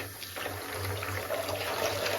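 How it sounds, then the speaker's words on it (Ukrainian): Water runs steadily from a tap into a basin filled for washing hair-piece sets with shampoo, a continuous close splashing rush with a low hum underneath and no voices. "далі набираю воду"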